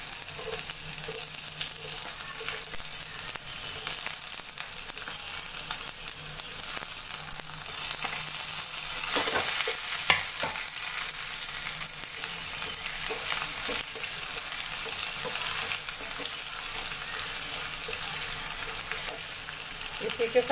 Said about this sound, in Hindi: इसको थोड़ा सा तड़कने देंगे। इसमें हम प्याज डाल देंगे।